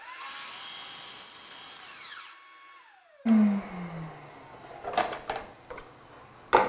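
A power saw cuts a 22.5 degree miter through a wainscoting rail, starting with a loud steady whine that winds down, then a sharp thump and scattered clatter and knocks as the cut piece is handled nearby.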